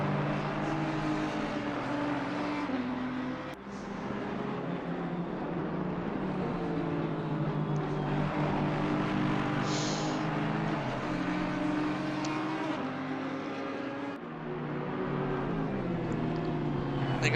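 GT3 race cars lap Laguna Seca in a sim racing game, engines droning steadily with rising and falling revs. Brief gear-shift breaks cut through a continuous loud roar.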